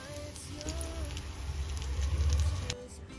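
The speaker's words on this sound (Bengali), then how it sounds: "এরপরে সবগুলো ভেজে নেব।" Homemade shop-style snacks deep-frying in hot oil, a steady crackling patter that swells and then drops off near the end, close by with no one talking.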